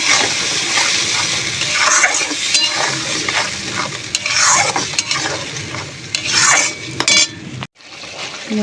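Ground mustard and green chilli paste frying in a pan with tomato, loud close sizzling with repeated stirring scrapes and pot clatter, ending abruptly.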